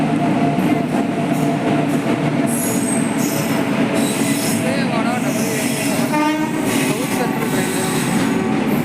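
A WAP7 electric locomotive hauls a passenger train into a station. Rolling wheels rumble steadily throughout, with high metallic squeals and a brief horn sounding up close. Crowd chatter carries underneath.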